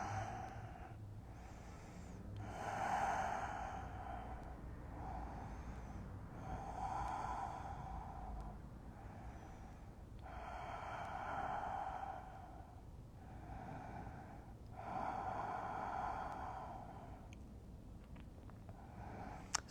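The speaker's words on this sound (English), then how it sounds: "Give yourself a couple rounds of deep breath here." Slow, deep breaths during a yoga hip-opener stretch, about eight long inhale-exhale cycles in a steady rhythm, soft and close with no talking.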